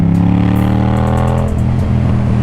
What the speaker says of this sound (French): Là je veux un vrai bruit de moto comme cette MT par exemple qui fait un super son d'ailleurs.